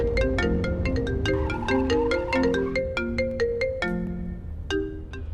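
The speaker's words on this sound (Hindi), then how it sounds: "लीजिए, आ गया आपकी मॉम का कॉल।" A mobile phone rings with an incoming call, a bright melodic ringtone of quick repeated notes playing clearly and steadily for several seconds in a quiet room, with no one speaking.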